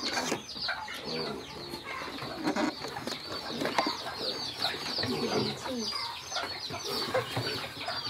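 Chickens clucking on a small rural farm among other fowl and pigs, a busy, continuous cluster of clucks and bird calls at moderate distance with a faint voice now and then.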